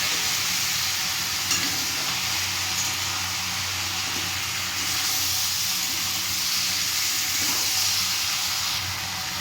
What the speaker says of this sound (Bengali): ঘিটা দিয়ে দেওয়ার পরে এবার ভালো করে নেড়ে চেড়ে নেওয়া হচ্ছে।